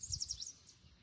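A young cougar named Tacoma gives a few soft, high chirps in quick succession, faint and close, followed by a brief pause and one more quiet chirp.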